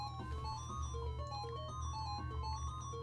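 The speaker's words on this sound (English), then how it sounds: "he is surrounded by the sounds of MIDI" MIDI music from the video game Darkseed during a nightmare scene, a thin synthesized melody of quick stepping notes over a low pulsing bass, faint and steady for a few seconds with no voices.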